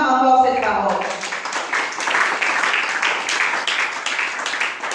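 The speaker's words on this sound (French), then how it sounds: "J'aimerais qu'on acclame encore cette parole" A church congregation applauds in acclaim during a sermon, steady broadband clapping that rises just after the first second and keeps a dense, even wash to the end, with a voice briefly audible at the start.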